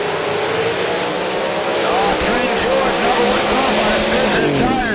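Small-block Ford and big-block Chevy drag race cars roar loudly and continuously at close range while launching, their engines rising in pitch, with an announcer's voice speaking over the noise.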